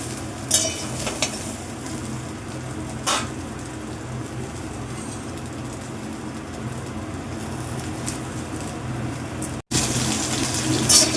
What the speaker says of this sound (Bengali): সামান্য একটু তেলে ভাজবো ডাটাটা